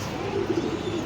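Pigeon coos from a pair of highflyer breeder pigeons, a soft low warbling coo repeated through the second, close by and steady, with no talking over it.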